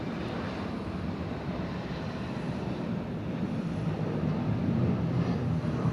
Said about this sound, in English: Another 717, this one off to Tulsa, Oklahoma.